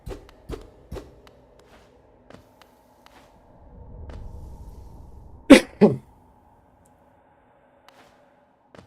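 Two sharp, close coughs break a mostly quiet stretch, preceded by scattered clicks and a low rumbling murmur.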